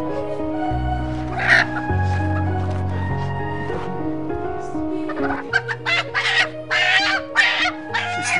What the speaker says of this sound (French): Je veux sacrifier ce poulet